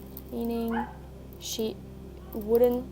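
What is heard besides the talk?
neighbor's dog barking outside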